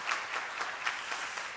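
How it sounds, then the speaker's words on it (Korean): Warm applause fills a church as a congregation welcomes a new choir soloist, with a steady patter of many hands clapping close by for a moment. "박수로 맞이해 주세요."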